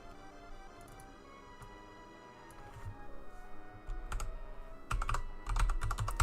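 Typing on a computer keyboard: soft, irregular key clicks close by, sparse at first, then quicker, louder bursts of keystrokes toward the end, with no talk.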